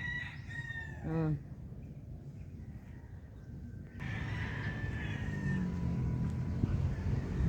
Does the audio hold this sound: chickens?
yes